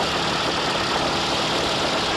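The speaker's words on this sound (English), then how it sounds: "We got a 600 horsepower engine up front" A 600-horsepower propeller fighter plane engine in flight shortly after takeoff, a loud, steady, dense roar filling the whole clip without a break.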